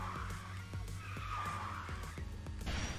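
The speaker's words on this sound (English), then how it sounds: "So you drift, counter, shift, drift, counter, shift" Kart skidding through repeated drifts in the KartRider Drift racing game, a continuous scraping tire squeal over a steady engine drone, loud and close, with short sharp bursts marking each drift and counter-steer.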